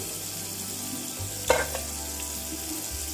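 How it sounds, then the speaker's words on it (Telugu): Butter and a little oil heat in a pan with a soft, steady sizzle, a brief louder crackle rising in the middle, close by with no talking. "ఇప్పుడు మనం బటర్ వేసుకుందాము బటర్ వేసుకొని వేడి చేసుకుందాం"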